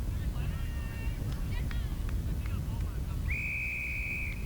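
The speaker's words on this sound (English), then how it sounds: "Toss goes up, and we've got a whistle." A referee's whistle sounds at an Australian rules football match, one long steady blast rising over a busy crowd and ground noise after a few shorter chirps, with commentary voices underneath.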